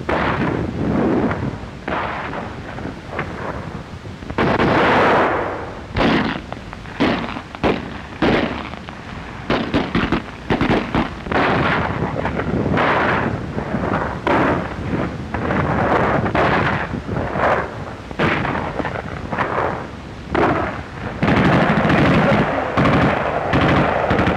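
Wartime battle footage of enemy fire from houses along suburban streets in Belgium: sharp gunshots and heavier booming bursts crack repeatedly, loud and reverberant, with dense rumbling between the shots.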